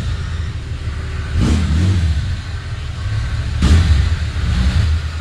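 Chevrolet Opala engine revving inside a garage, a loud, steady mid-pitched rumble rising in two blips of throttle over a constant running drone.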